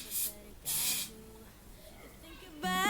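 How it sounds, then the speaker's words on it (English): Two short hissing bursts from a spray bottle misting a lace front wig along the hairline, close and sharp with a pause between, followed by a brief voice at the end. "I'm gonna spray this one"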